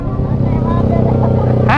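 A Yamaha Mio M3 scooter engine drones steadily at close range while riding, a low continuous rumble with a brief higher whine rising near the end.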